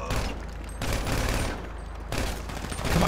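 Rapid bursts of gunfire from a GTA Online shootout, loud and dense, coming in several clusters that separate briefly and then resume with no talking.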